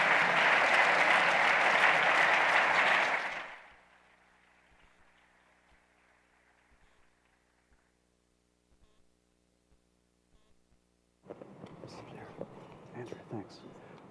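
Loud, dense applause from a large audience at a Canadian Club of Toronto philanthropy panel, welcoming the host and panelists, sustained for several seconds before fading, followed by quiet room tone and then a voice speaking.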